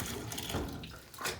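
Hot water running from a tap into a bathtub being tested for a clogged drain, a continuous close splashing rush, fairly quiet with no voices.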